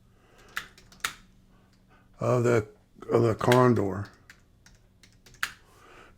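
Keys on a computer keyboard click in a few sharp, separate taps, with someone talking in between.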